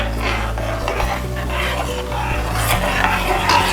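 Steady scraping and rubbing of a utensil stirring rice in a pot of boiling water, continuous and close, with a faint bubbling hiss behind it.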